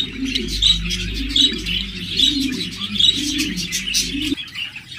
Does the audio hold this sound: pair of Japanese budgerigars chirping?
yes